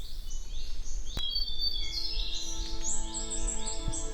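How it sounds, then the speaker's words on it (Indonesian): Birds chirp and whistle repeatedly in the open on a quiet morning mountain trail on Mount Ciremai, several overlapping calls, fairly clear against a soft outdoor background. "Hanya suara kicauan burung yang terdengar."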